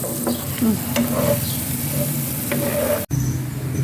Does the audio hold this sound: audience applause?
no